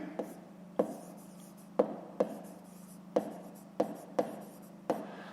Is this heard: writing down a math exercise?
yes